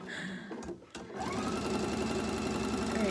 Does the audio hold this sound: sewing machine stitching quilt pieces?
yes